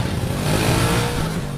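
A motorcycle engine runs and revs up close, a loud steady buzzing drone with no one speaking.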